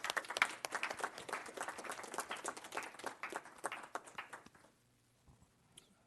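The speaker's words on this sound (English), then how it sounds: "Let's give them a round of applause." An audience claps in a meeting room of the Los Angeles Fire Department commission, a dense, fairly quiet round of applause that fades out after about four seconds, leaving near silence with a couple of faint sounds.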